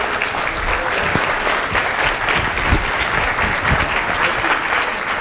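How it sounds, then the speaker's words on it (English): Steady, dense applause from an audience at a public health lecture, many hands clapping together continuously at close range with no break. "We're going to do some active, practice some active applause here."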